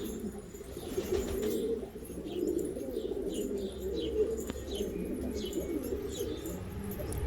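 Two young male pigeons of a domestic breed coo softly and repeatedly, low murmuring calls close by, with faint chirps and a few light wing flutters in the background.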